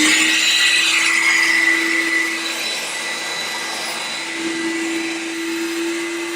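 A vacuum cleaner sucks loosened dirt out of a car seat, a loud, steady whine with a constant tone and hissing airflow that shifts slightly as the nozzle moves across the upholstery.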